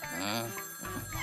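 A cartoon phone rings in a Honey Bunny kids' animation, a brief, buzzy warbling ring tone that sounds continuously and fairly close throughout.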